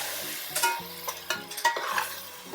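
Ginger garlic paste and masala frying in a pan for Dindigul-style mutton biryani, with a steady sizzle broken by several short scraping stirs of a spoon against the pan, close and moderately loud.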